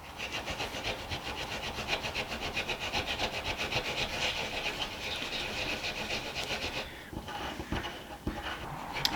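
A laser-engraved coin being polished by hand with fine steel wool, making a steady, close, raspy rubbing in quick back-and-forth strokes that slows to a few scrapes near the end.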